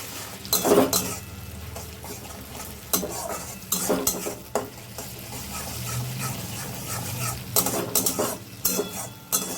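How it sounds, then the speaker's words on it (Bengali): Grated tomato goes into a chicken dish cooking in a pan, followed by clattering spoon-stirring and scraping against the pan over a low sizzle, in uneven bursts close by. "এবার আমি এই যে গ্রেট করে রাখা টমেটোটা দিয়ে দেবো।"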